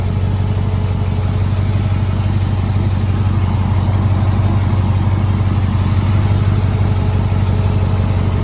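A 1967 Corvette Stingray roadster with a 427 TriPower V8 idles steadily and smoothly, a constant loud low rumble close by with no talk over it.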